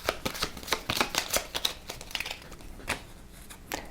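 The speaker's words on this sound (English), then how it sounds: "which then shuffles our discard pile up." Playing cards from the discard pile are shuffled during a tabletop game of Raxxon, giving a string of quick, crisp riffling and flicking bursts close by with short pauses between them, and no voices.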